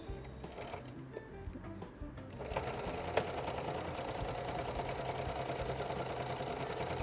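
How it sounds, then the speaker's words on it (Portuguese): Singer Patchwork 7285 sewing machine running a closing seam on fabric, a steady continuous mechanical whir that starts a couple of seconds in and stays close and even to the end. "Aqui eu vou passar uma costura fechando. Fazer o retrocesso."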